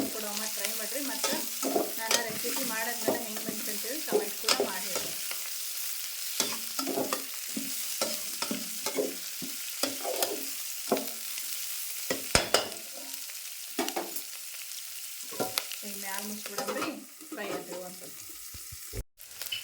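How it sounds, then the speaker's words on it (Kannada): Onion, green chilli and beans frying in a pan for a vegetable dish, with steady sizzling and repeated stirring scrapes in an irregular rhythm, heard close and alone at moderate volume. "ಇವು ಮೂರು ಫ್ರೈ ಆಗಬೇಕು ಚಲೋ ಉಳ್ಳಾಗಡ್ಡಿ ಮೆಣಸಿನ್ಕಾಯಿ ಅವ್ರಿಕಾಯಿ"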